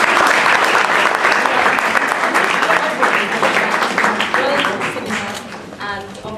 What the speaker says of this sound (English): can you all give her one more round of applause?